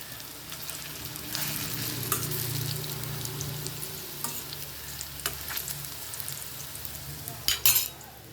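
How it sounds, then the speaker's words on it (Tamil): Snake gourd kola urundai balls frying in hot oil, a steady close sizzle with occasional scrapes and clinks of a spoon stirring in the pan. "அப்படியே ஃப்ரை பண்ணுறோம்"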